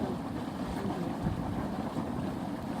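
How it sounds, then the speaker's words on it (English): Steady low bubbling and gurgling of geothermal hot water in Rotorua, New Zealand, a dense continuous churn with breezy outdoor noise, no voices. "Bubbling away."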